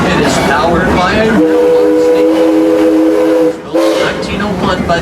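A train from the park railroad at Six Flags, pulled by an American Locomotive Company steam locomotive, sounds a loud, close steam whistle in a sustained multi-tone blast, starting and ending amid rumbling and a talking voice.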